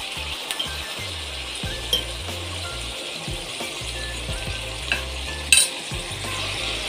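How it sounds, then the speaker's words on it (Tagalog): Chicken sizzles in a hot frying pan with turmeric powder while a utensil stirs and scrapes, a steady close frying hiss broken by rhythmic clinks and scrapes of the spoon against the pan. "Ilagay ko na yung manok guys. Ayan, haluin ko lang ng konti."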